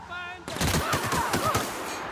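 Rapid gunfire bursts in the video game The Outer Worlds, loud and dense after a brief quieter lead-in, with a voice speaking beneath the shots.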